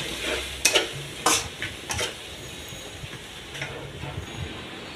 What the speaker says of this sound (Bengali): এখন দিয়েছি লবণ, হলুদ, জিরা, ধনিয়া, তারপর মরিচের গুঁড়া দিয়ে আবার একটু ভাজা ভাজা করে নিচ্ছি